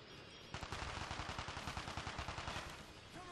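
Rapid automatic gunfire from the shooter Call of Duty: Black Ops Declassified, a steady burst of closely spaced shots running for about three seconds after a short quiet start.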